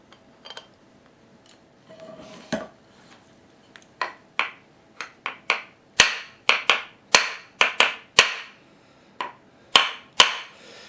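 Sharp metallic hammer blows on a Tormek 2000 wetstone grinder arbor, close and loud, starting sparse then settling into a steady series of repeated strikes.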